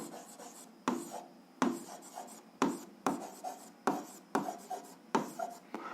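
Pen or pencil writing out an algebra solution for a 7th-grade exercise on paper, a steady series of scratchy strokes in bursts, close and fairly quiet, with no talking.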